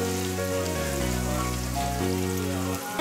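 Chopped onions frying in oil in a pan, cooking for methi chicken, make a steady, close, even crackling sizzle that carries on with no talk.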